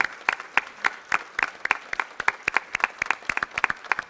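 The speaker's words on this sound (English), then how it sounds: "Let's give these gentlemen and ladies a round of applause." A church congregation applauds military veterans, with sparse, distinct claps in an irregular rhythm, fairly close and clear over a quiet room, with no talking over it.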